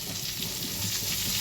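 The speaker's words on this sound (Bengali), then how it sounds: "এবার এই মশলাটাতে একটু জল দিয়ে দেবো।" Water splashes into a spice paste frying in a pan, giving a steady broadband sizzle that holds at an even level throughout, close and alone with no voices.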